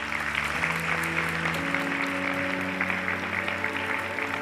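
Applause from a pageant audience at the Miss Grand USA 2026 finals, a steady dense wash of clapping throughout with sustained music tones underneath.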